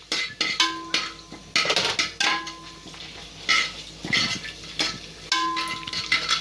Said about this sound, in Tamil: நெய் நல்லா காஞ்சதும் பிரியாணி இலை, மராட்டி முக்கு, அன்னாசிப்பூ, கல்பாசி போட்டு நல்லா பொரியணும்.